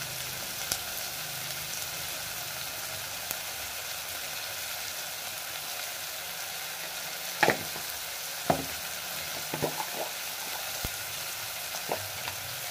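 Egg curry masala stirred and fried in a pan, a continuous soft sizzle with occasional sharper spoon scrapes and taps against the pan in the second half, close by with no voices.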